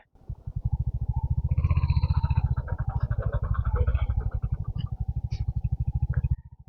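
A motorcycle is ridden up on a tableland. Its engine chugs loud and close in rapid, even pulses for about six seconds, then cuts off.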